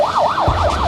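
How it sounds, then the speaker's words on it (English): A loud ambulance siren wails up and down close by at a beach, joined halfway through by a deep engine rumble. "Ambulance coming pretty rapidly."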